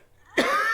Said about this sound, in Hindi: जब मैं तेज बोलता हूँ तो फिर खांसी आने लगती है